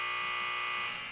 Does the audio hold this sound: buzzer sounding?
yes